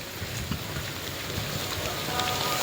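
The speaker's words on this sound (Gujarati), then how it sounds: "જો કેટલો આવ્યો વરસાદ, વધારે વરસાદ આવ્યો થોડોક." A steady, heavy downpour hisses continuously on surrounding surfaces, dense and even throughout with occasional louder drop impacts, and no voices are heard.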